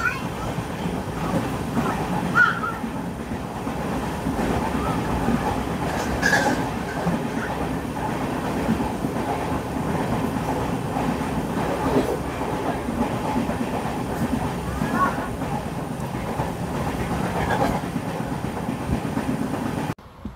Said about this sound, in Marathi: आता आपली ट्रेन सावंतवाडी रोड क्रॉस करत आहे